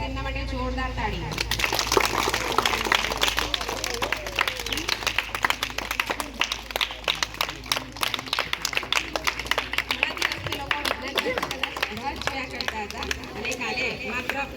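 An audience at a school National Science Day celebration applauds child scientists, with dense, sustained clapping that continues steadily for the whole stretch and some chatter mixed in.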